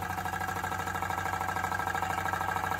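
A Wilesco D305 toy steam engine runs steadily, a continuous close mechanical chugging with a fast, even rhythmic beat and no pauses.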